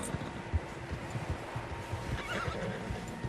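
Several horses in Red Dead Redemption 2, heard near: a clear whinny rising over soft clip-clopping hooves and light rustling, with scattered thumps and no talk.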